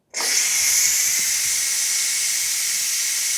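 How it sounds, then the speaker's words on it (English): Loud, steady steam hiss from a Ninja Foodi pressure cooker's pressure release, starting suddenly and continuing unbroken at close range. "I'm going to stop the Foodi right now and release the pressure."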